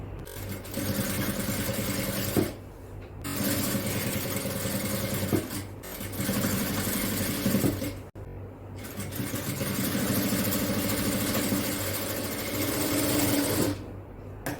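A sewing machine stitches a kids' frock in long, even whirring runs of several seconds each, broken by three or four short pauses, close and loud.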